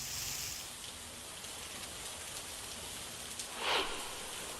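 Rain falls steadily in Maharashtra's Solapur and Dharashiv area, a soft, even hiss that runs uninterrupted and fairly faint, with a brief slightly louder swell near the end.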